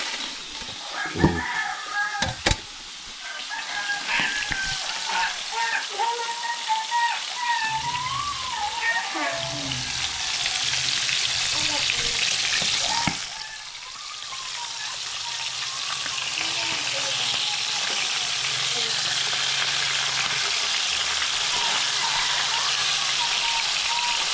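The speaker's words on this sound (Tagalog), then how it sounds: "Iprito ko na mga kaidol." Freshly caught fish fries in a pan outdoors by the shore with a loud, continuous sizzle. A few sharp knocks open the clip, and a voice speaks over the first part.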